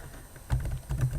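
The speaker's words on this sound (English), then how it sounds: "you're going to hear a bunch of typing" Laptop keyboard typing comes through as a few soft, close clicks and taps in two brief bursts, quiet and without talking.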